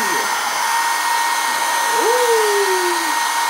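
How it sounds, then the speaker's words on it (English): A handheld blow dryer roars steadily and close for the whole stretch, its broadband whoosh holding even with a faint whine, while a brief voice-like glide rises and falls beneath it near the middle. "So there, this is my blow dryer."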